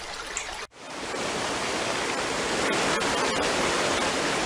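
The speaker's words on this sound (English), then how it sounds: "Notice where the waterfall is" A steady, full rush of falling water fills the scene, continuous and fairly loud, after a brief cut near the start.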